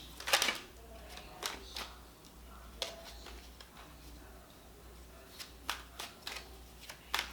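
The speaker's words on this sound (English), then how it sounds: "I'm going to pull one more card for Sag." Tarot cards being shuffled and pulled from a deck at close range, several sharp papery flicks and snaps in irregular bursts over a quiet background.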